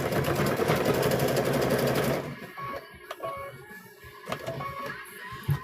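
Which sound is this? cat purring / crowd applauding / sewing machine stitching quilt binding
sewing machine stitching quilt binding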